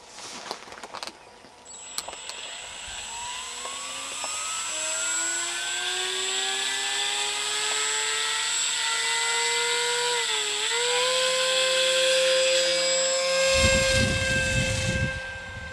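An ArduPilot Mega model aircraft motor runs steadily in manual flight, a sustained whine whose pitch rises and dips as the throttle shifts, close and fairly loud throughout with no talking.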